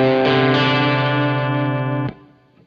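An electric guitar played through a DryBell The Engine overdrive pedal rings out as a single sustained, driven chord that holds steady and is then cut off abruptly near the end, with no talking.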